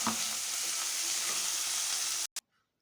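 Mint, coriander and tomato chutney frying in a tempering with curry leaves, giving a steady, close sizzle that cuts off abruptly near the end, followed by a brief clack and then quiet.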